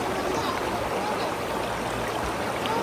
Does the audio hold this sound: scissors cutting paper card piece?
no